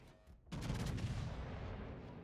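Iowa-class battleship turrets fire in World of Warships: a brief quiet lead-in, then a heavy booming salvo that rolls on into a long rumbling tail, deep and forceful.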